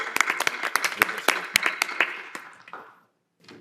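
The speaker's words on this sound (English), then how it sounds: "If we give her a big round of applause and welcome her" A board of education meeting audience claps to welcome a new Director of Accounting, a modest round of sharp, closely spaced hand claps that thins out and fades to silence, followed by a brief sound at the end.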